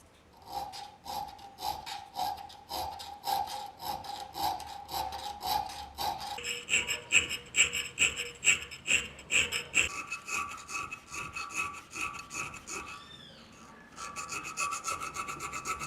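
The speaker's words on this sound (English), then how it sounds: "metal files carefully expand the punched hole, shearing off microscopic layers of copper." Metal files enlarge a punched hole in a copper spacer, close rhythmic rasping strokes in repeated back-and-forth bursts, shifting in pitch between passes, with a brief squeal near the end.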